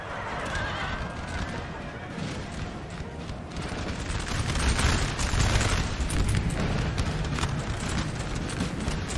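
Cavalry horses of a Hussar unit in the Napoleon: Total War video game at Waterloo, with neighing and clip-clopping hooves in a dense, continuous battle din alongside distant volleys of musket fire and booms; no talk.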